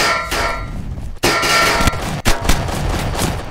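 Gunfire from other players in the Roblox game Mad City, heard as loud, dense bursts of game sound effects with sharp cuts, running continuously for several seconds.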